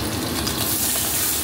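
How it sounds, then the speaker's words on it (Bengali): Puti fish seasoned with salt and turmeric fry in hot oil in a wok over a medium gas flame, giving a steady, close, dense sizzle and crackle that runs unbroken and fairly loud throughout. "এখানে কড়াইয়ে তেল দিয়ে মাছগুলো ভেজে নেব"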